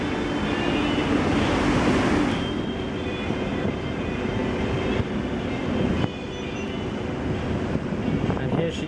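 Steady rumbling engine drone and churning water from a Star Ferry approaching the Tsim Sha Tsui pier in Hong Kong, loud and continuous with a brief shift partway through.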